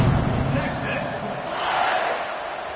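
A stadium crowd roars in the NCAA 26 football video game during an Auburn vs Texas kickoff, a loud sustained swell of cheering with a commentator's voice over it.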